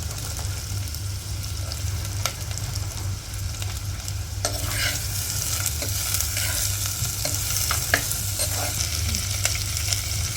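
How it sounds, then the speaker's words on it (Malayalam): Small onions, green chilies and drumstick pieces frying in a pan for a homemade tomato drumstick curry, with a steady close sizzle, occasional stirring clatter, and a brief louder burst partway through. "അപ്പോൾ ആദ്യം തന്നെ നമ്മൾ ചെറിയ ഉള്ളി പച്ചമുളകും ഇടാം മുരിങ്ങക്കായും കൂടി ഇട്ട് കൊടുക്കാം"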